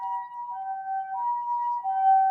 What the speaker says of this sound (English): You hear that? The sirens.